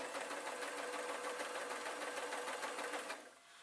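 A sewing machine stitches elastic onto a gypsy top, a steady rapid whirring hum with a fast needle rhythm that runs close and unbroken, then slows and stops near the end.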